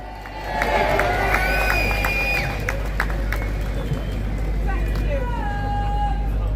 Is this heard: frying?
no